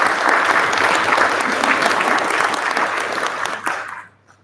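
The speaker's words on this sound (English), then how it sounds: "let's give him one last round of applause" An audience gives a sustained round of applause for a presenter at a Terraform developer session; the dense clapping holds steady and loud before fading out abruptly at the end.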